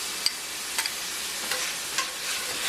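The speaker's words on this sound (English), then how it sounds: "You mix in your garlic." Garlic paste is worked into a raw New Mexican–style chorizo mixture, giving a continuous wet hiss broken by a few soft, scattered clicks and scrapes of mixing.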